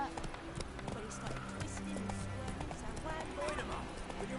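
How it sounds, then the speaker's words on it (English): Hooves of a horse in the video game The Witcher 3 clop rhythmically at a gallop, quiet and steady beneath game music, with a voice speaking over the top. "vamos a coger el caballo"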